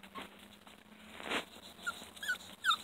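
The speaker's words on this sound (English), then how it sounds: "Puppies." Puppies whimpering, several short high-pitched whines and squeaks near the end, fairly close, over a quiet background with a faint hum.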